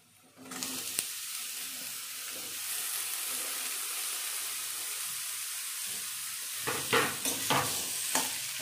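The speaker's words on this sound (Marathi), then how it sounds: "जास्त लाल करायचा नाही आपल्याला कांदा, कारण टोमॅटो सोबत अजून फ्राय होतो।" Onion frying in a pan for a green tomato sabji, a steady close hiss of sizzling oil that rises suddenly and holds, with a few stirring scrapes near the end and no talk.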